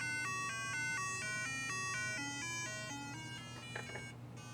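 An Apple IIgs beep speaker plays electronic beeps that step up and down in a quick repeating melody, thin and tonal, over a low steady hum, then fade near the end.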